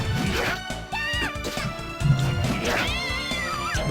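A cat character in the video game Devil Operation System meows repeatedly over busy, loud game music and effects, the cries rising and falling above the background.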